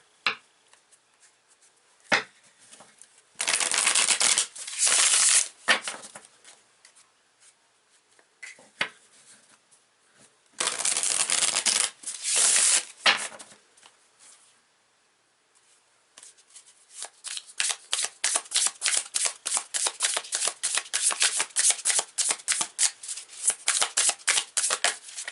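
Tarot cards are shuffled in bursts of crisp riffling, with quiet pauses between, then a long stretch of rapid, evenly spaced flicks and snaps close to the listener.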